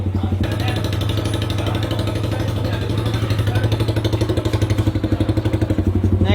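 Motorcycle fitted with an aftermarket silencer exhaust, tested at a bike shop: a loud, close engine note with a strong low throb, idling and then blipped in quick rhythmic pulses toward the end.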